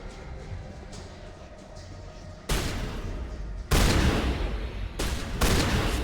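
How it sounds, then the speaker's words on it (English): Enemies fire shotguns in Mass Effect, loud blasts in bursts that jump sharply in volume after a quieter opening, with sustained rough gunfire and no talk. "Yeah, they got the shotgun out."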